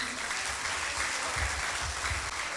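Seminar audience applause on the future of young people and artificial intelligence, a continuous, even patter of many hands clapping at moderate distance throughout.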